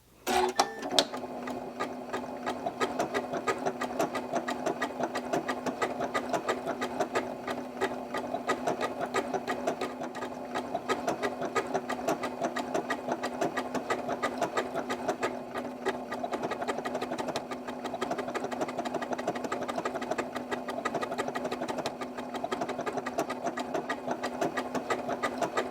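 A sewing machine runs steadily for a long stretch, stitching a decorative stitch onto a fabric fish-shaped cat toy, its close, even mechanical whir and rapid needle clatter starting abruptly and continuing without pause or talk.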